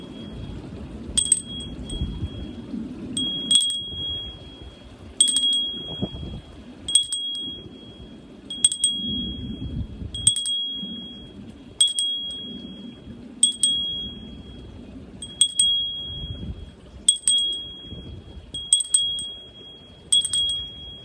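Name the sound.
ringing a bell bearing a Wiccan symbol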